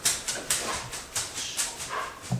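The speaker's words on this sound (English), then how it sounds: "Steven just walked into the kitchen in a hat and Mavis barked at him like he was an intruder" Mavis the dog barks repeatedly in a home kitchen, several sharp, moderately close yaps and yips in an uneven rhythm, heard alone.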